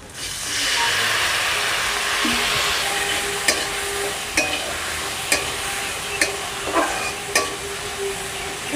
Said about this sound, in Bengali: মশলাগুলো যাতে পুড়ে না যায় একটু জল দেবো